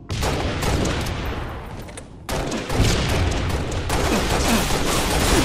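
Rapid DMR rifle fire in a team doubles arena shooter, steady loud bursts of shots filling the whole stretch with a brief dip before resuming, near and dense.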